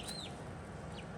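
Golden lace chicken hens clucking softly in a chicken run, a few short, faint calls over a steady low background hum.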